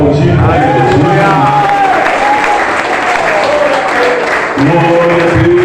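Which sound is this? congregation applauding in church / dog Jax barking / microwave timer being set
congregation applauding in church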